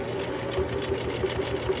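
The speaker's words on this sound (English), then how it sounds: "I hear my sewing machine catching" Sewing machine stitching a fabric face mask, a fast steady mechanical whir with rapid regular needle clicks, close and continuous, slightly catching.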